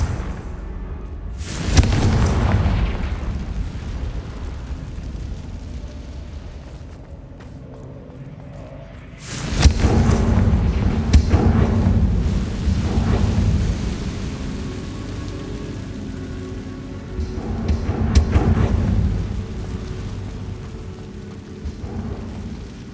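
Confringo fire spells explode in Hogwarts Legacy, three heavy rumbling booms several seconds apart, each with a sharp onset and a long crackling, roaring tail.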